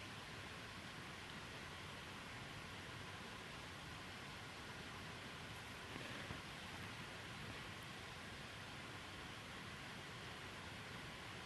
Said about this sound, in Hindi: हरिद्वार में सुबह से ही झमाझम बारिश हो रही है।